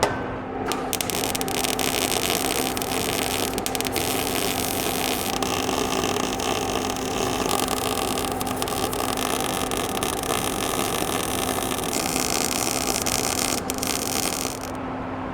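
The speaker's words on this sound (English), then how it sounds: "I'll get all of this welded up here" Continuous crackling buzz of welding on a thin metal chainsaw muffler, close and loud with a steady electrical hum underneath, the sizzle shifting slightly in texture as the weld runs for about fifteen seconds.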